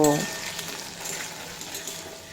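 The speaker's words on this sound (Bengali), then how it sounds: "আদা কাঁচা লঙ্কা বাটা দিয়ে আদা কাঁচা লঙ্কা কাঁচা গন্ধ চলে যাওয়া পর্যন্ত ভেজে নেব" Ginger and green chilli paste fries in a pan for a mixed vegetable curry, a steady close sizzle that starts with a brief clink.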